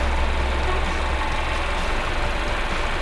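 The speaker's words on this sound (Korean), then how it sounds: "엔진 소리 일정하네요" A Mercedes-Benz E-Class W213 E300 engine idles steadily with a low, even rumble that holds constant throughout, close to the listener, with no talking.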